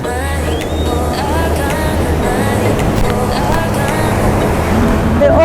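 Big Pacific waves crash onto the Puerto Vallarta shore in a dense, steady roar that swells slightly toward the end, with distant voices and traffic-like noise in the mix.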